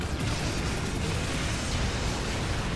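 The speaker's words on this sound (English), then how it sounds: "let's just start with a little volley of grenades here" A volley of grenades explodes in Earth Defense Force: Insect Armageddon, producing a dense, continuous roar of blasts and rumbling debris at a constant loudness throughout.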